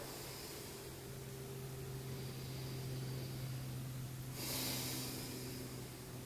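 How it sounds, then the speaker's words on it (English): Deep inhale and exhale breathing during a slow flow vinyasa yoga session, a soft airy rush swelling near the end over a steady low hum. "Big inhale and exhale."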